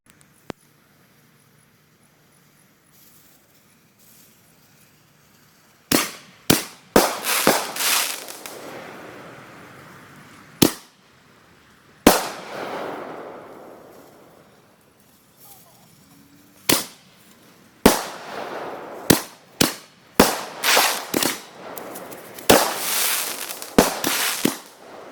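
Consumer artillery firework shells launching one after another from a 15-shot fan mortar rack outdoors after dark, sharp loud bangs coming in irregular bursts with some close together, quiet gaps between, no talking.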